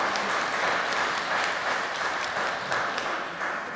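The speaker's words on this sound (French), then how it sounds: "on va t'applaudir pour ce temps" A church audience during a joint Sunday service applauds Sonia, a former council president, with dense, continuous clapping at close range that holds steady for several seconds.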